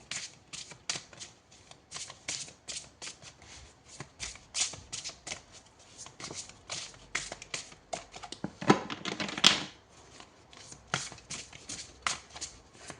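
Thin oracle cards being shuffled by hand, a steady run of quick, close papery riffles and flicks with a brief louder burst midway, no talking over it.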